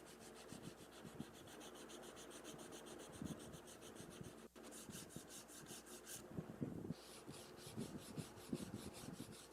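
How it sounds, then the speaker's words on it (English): Sandpaper rubs back and forth over a wooden guitar body, smoothing a freshly chiselled bevel with soft, continuous rasping strokes at close range and no voices. "And then sanding it smooth."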